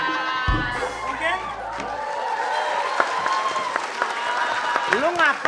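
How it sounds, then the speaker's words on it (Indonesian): A studio audience at an Indonesian comedy show applauds and cheers, with a loud crowd of clapping and whoops mixed with shouting voices and people talking close by. "Lu ngapain pada tepuk tangan, hei."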